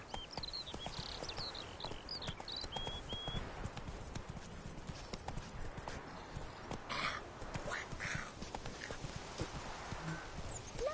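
Roach, a horse in The Witcher 3, gallops with a steady, rapid clip-clop of hooves that runs throughout, fairly faint against background ambience, with a brief snort or whinny in the middle.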